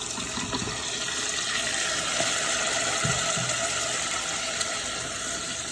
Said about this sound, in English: Just let it fry.